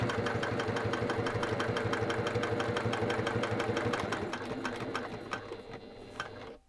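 A sewing machine stitches a faux leather zipper pocket on a zippered pouch, running in a fast, even mechanical rhythm close by for several seconds before slowing and stopping.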